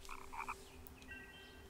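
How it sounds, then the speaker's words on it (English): Frog croaks in the video game Child of Light, a few short clustered calls near the start, followed by a steady tonal game ambience with soft background music. "There's a frog here."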